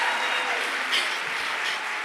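Audience at a literary evening cheering, whooping and applauding in a steady, dense wash of claps and shouts, fairly close and continuous throughout.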